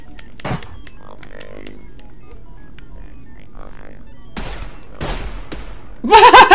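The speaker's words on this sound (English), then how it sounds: "One of the robots shot another robot." Robots trading gunfire in Sir, You Are Being Hunted: a few sharp, widely spaced shots crack out of near silence, then a loud rapid burst of fire closes the stretch.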